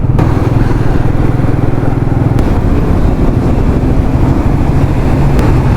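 A motorcycle engine drones loudly and steadily up close, its pitch shifting slightly as it rides amid Bangalore city traffic noise.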